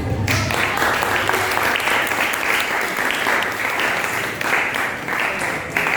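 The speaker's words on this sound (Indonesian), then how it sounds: "Oke, boleh tepuk tangan." A classroom of students breaks into loud, dense applause that stays steady for several seconds, close and continuous with no talking over it.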